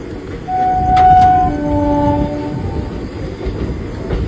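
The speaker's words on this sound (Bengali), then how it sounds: "আমাদের ট্রেন এখন প্ল্যাটফর্মে ঢুকছে। কি আওয়াজ P4 এর, ওফ WFE4।" A WAP-4 electric locomotive hauling the Haldibari Intercity enters New Jalpaiguri station, sounding a loud, stepped two-tone horn over the heavy rolling rumble and clatter of the train.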